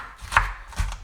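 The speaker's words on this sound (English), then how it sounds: "I'm not even chopping this up too much because I kind of like my onions kind of chunky" A knife chops a sweet onion into chunky pieces on a cutting board, with two distinct close thuds about half a second apart.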